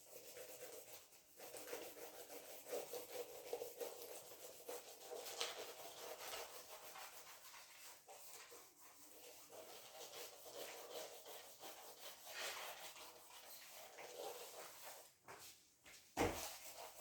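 Steady rubbing and scrubbing as writing is erased from a board in a classroom lecture, a continuous soft abrasive swishing for most of the time, ending with a brief knock.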